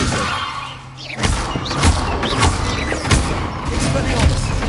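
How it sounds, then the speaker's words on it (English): The Expelliarmus spell cast in Hogwarts Legacy lands as a series of sharp thuds and crackling magic bursts, several close impacts over game background noise with some talk. "Expelliarmus!"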